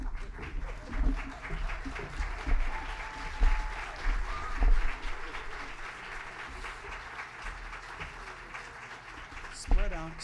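Audience applause at a high school fall choir concert for first-year choir members, a soft, diffuse patter of clapping in a large room with voices murmuring through it, fading toward the end.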